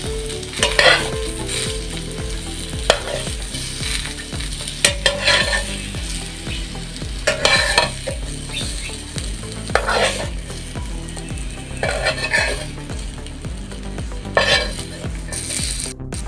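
Boiled sword beans fry in a little oil for a coconut bhorta, with a steady sizzle broken by regular loud scraping strokes of a spatula against the pan.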